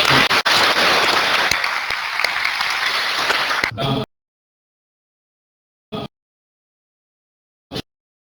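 Audience at a seminar on NGOs and national defence applauding the speakers: dense, steady clapping for about four seconds that stops abruptly, followed by silence broken by two brief faint noises.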